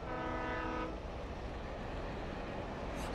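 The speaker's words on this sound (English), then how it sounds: "Oh, it's a train." Train passing in the video game Alan Wake Remastered: a steady, heavy low rumble of rolling rail cars that fills the whole clip, with a faint horn-like tone early on, loud and continuous without talk.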